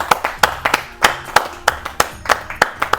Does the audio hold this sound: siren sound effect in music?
no